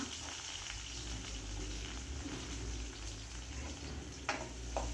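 Chopped onions sizzle and crackle steadily in a hot pan, a soft continuous hiss with a couple of faint scraping clicks near the end.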